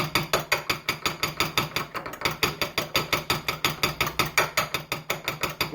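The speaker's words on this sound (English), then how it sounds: "I'm taking my fork and you can see the color is changing." A fork beats eggs in a bowl with quick, even strokes, a rapid regular run of close, crisp clicks and taps against the bowl that continues without a break and has no talk over it.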